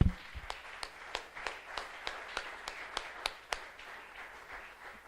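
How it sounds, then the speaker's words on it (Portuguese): A church congregation claps along during a Portuguese-language worship service, giving steady, evenly spaced claps at a moderate pace, each one sharp, fairly quiet and heard from a distance, with no talking over them. "Você pode aplaudir o Senhor comigo mais uma vez?"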